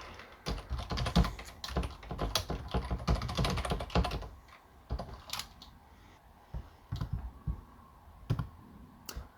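Code being typed on a computer keyboard, quick bursts of close, crisp key clicks with short pauses between runs, busiest in the first four seconds and sparser afterward.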